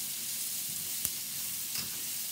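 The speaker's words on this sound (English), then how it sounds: "I'm going to brown my onions, or saute my onions" Onions sautéing in a skillet, a soft steady hiss of sizzling oil heard close but quiet, with a couple of faint utensil taps, no talking.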